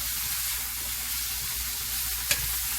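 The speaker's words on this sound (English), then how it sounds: "And mix all our veggies together." Peppers, onions and broccoli sizzle steadily in a hot pan while being stirred, a constant close frying hiss with a brief scrape of the utensil near the end.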